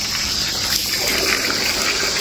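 Water running steadily as poultry waterers are filled for a mixed flock of chickens and geese, a constant close rushing pour with no voices.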